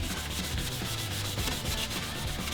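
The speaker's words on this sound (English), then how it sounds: "So, wet down your headlight, start sanding." Steady rhythmic wet sanding of a plastic car headlight, repeated back-and-forth strokes of sandpaper close up with no talking.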